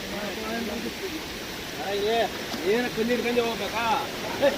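A mountain stream in the Western Ghats rushes steadily over rocks in a continuous, moderately loud flow, with voices talking over it.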